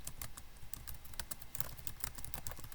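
Questions are typed quickly on a computer keyboard, with a rapid, uneven run of soft key clicks close by in a quiet room.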